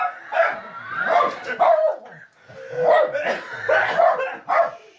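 A dog barks and yips repeatedly in close, loud bursts, mixed with excited human voices and laughter indoors.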